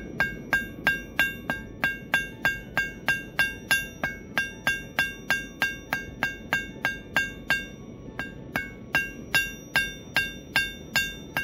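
Hammer striking the heated end of a forged metal icicle ornament, a fast steady run of bright ringing blows of even rhythm with a short pause midway, each hit clear and close with no talk.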